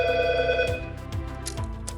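A telephone ringtone from the Trring Bluetooth call-mirroring device plays as a bright, repeating electronic ring, rising and falling in short pulses over a steady tonal backdrop.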